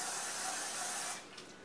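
A steady spray of Crisco canola oil cooking spray hisses into a pan for about a second from close by, then cuts off into quiet.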